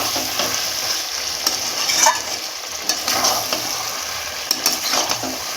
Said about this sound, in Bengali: আমি আবার নেড়ে দিচ্ছি।